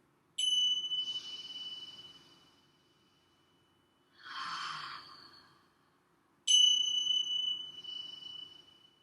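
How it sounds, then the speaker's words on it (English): A singing bowl-style chime rung twice during a preschool kids' yoga session, each strike a clear, bright ringing tone that lingers and slowly fades, with a soft breathy sigh between the two rings. "we'll take a few breaths as we listen to the chime."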